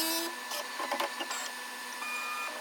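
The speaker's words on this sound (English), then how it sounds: "You can see a bit of a snippet here of the printer basically self-calibrating itself before every print." Bambu Lab P1S 3D printer running its self-calibration routine before a print, giving off a steady whirring motor hum with brief, faint mechanical chirps and buzzes at close range.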